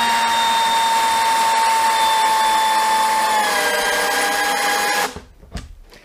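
A Dewalt DCD996 drill drives a screw with a loud, steady whirring whine that shifts slightly in pitch near the end, then cuts off abruptly, leaving a few faint clicks.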